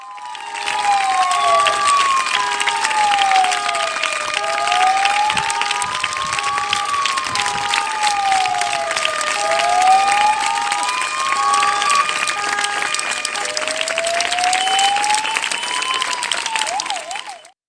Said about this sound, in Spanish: Ahí van esos aplausos.